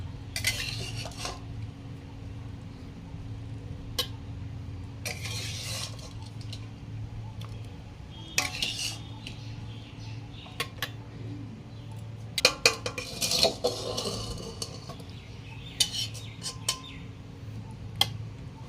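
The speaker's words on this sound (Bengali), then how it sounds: "এবারে ঝিঙাগুলো দিয়ে দেব।" Ridge gourd pieces tipped into a pan and stirred during home cooking of a steamed vegetarian dish, with repeated metal clinks and scraping of a utensil against the pan over a steady low background hum.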